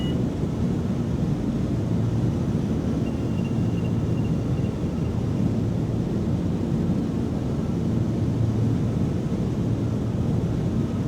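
Twin piston engines of a Cessna 414 throttled down in Microsoft Flight Simulator, a steady low droning hum with rushing wind noise, constant and unbroken throughout.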